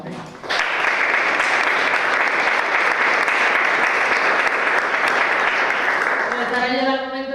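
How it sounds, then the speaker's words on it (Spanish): Loud, dense audience applause fills the hall for a speaker after a talk on notarial documents in Morisco Spain, steady throughout before a voice begins to speak near the end. "un merecido aplauso para ella, por favor"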